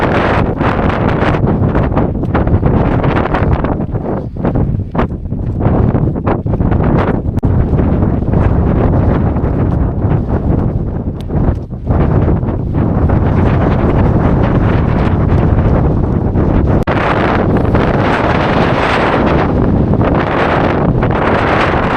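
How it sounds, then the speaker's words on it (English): Strong, continuous wind roaring and buffeting against the microphone on a mountain near Great Gable in the Lake District, loud and gusty throughout with no voices. "That bloody wind started picking up."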